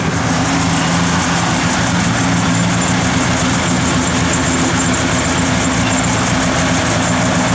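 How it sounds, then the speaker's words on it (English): A 1967 Oldsmobile 442 V8 idling as it warms up, with a lopey cam giving a steady, loud, uneven rumble close to the car, no voices. "As it warms up there, you hear that cam lobing a little bit."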